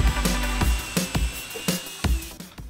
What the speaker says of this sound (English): It's really not hard cutting this out with the jigsaw.